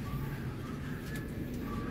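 Pigeons cooing outside a shop, soft low coos repeating amid quiet background noise, fairly faint and close.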